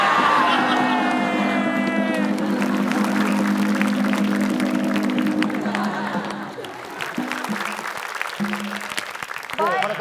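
A TV quiz show studio audience applauds and cheers after a correct crossword answer, with steady clapping and whoops under loud talk from hosts, easing partway through before voices continue.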